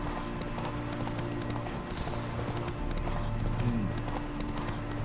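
Roach the horse galloping in the video game The Witcher 3, a steady rapid clip-clop of hooves running continuously under a faint background score.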